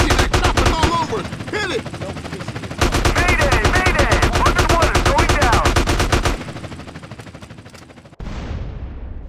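Rapid automatic video game gunfire in GTA San Andreas Definitive Edition, with long loud bursts of evenly spaced shots, a pause, a heavy final blast and decay, and a voice talking over the first bursts.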